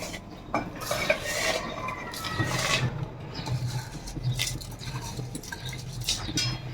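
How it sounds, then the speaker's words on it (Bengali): Washed pulao rice poured into boiling water in a cooking pot, with metallic clinks and scrapes of utensil against pot and a soft bubbling underneath, fairly close and moderately quiet. "এখন আমি এখানে পোলাও চালটা দিয়ে দিব।"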